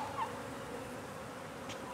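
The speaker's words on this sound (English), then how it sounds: "That's a lot of bees." A swarm of honeybees hums in a continuous, low, fairly quiet drone as it is moved into a hive outdoors, with no talking.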